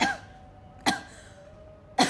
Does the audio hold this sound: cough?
yes